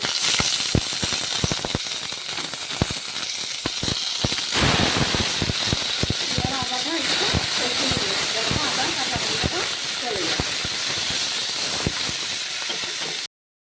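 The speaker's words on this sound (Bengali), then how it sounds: "তাতে আমি আদা বাটা দিয়ে দিচ্ছি" Ginger paste dropped into hot oil for a vegetarian banana-flower curry, a loud, broad hiss that swells after a run of crackling pops, continuing steadily close by.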